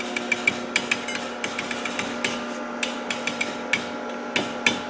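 A homemade telegraph key with a springy hacksaw-blade contact switch taps out the shave-and-a-haircut rhythm, giving a run of sharp, close metallic clicks in uneven bursts with no talking.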